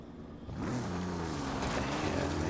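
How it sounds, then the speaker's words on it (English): A vehicle approaches head-on in a racing video game, its engine rising from quiet to a steady, loud droning hum that holds close for the rest of the moment. "Here's a vehicle coming right towards me."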